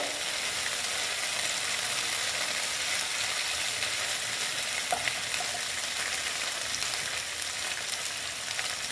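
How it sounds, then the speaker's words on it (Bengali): Stone-ground ginger and garlic paste frying in oil on a low flame for a koi fish curry, a dense, unbroken sizzle that stays even and close throughout, with no talk. "এটা আমি শিলে বেটে নিয়েছিলাম ভালো মতন ভেজে নিচ্ছি"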